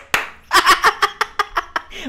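One person clapping their hands: a single sharp clap, then a quick run of about nine close, fairly loud claps that speed up slightly, with a voice mixed in.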